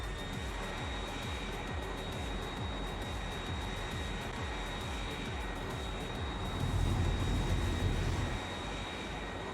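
An airplane in the Factorio mod Cracktorio drones on as a steady engine hum with a faint high whine, swelling briefly louder near the end, with no talking.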